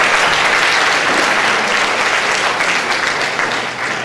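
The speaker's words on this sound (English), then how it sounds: "Let's give them another round of applause." An audience at a school jazz night applauds the trombone section, steady dense clapping filling the room at even strength before easing slightly at the end.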